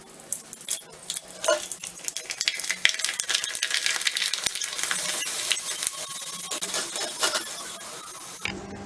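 Sun-dried rice vathal crackles and sizzles as it fries in hot oil, a dense continuous hiss with popping bursts that runs for several seconds and then stops abruptly.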